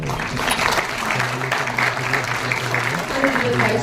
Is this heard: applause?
yes